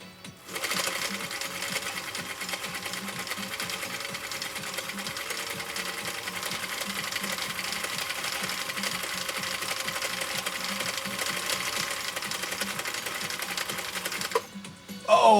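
A Husqvarna Viking CI 21A sewing machine runs a zigzag stitch, stitch 4 on Cam B, in one long, even, close whir that lasts nearly the whole time before stopping abruptly.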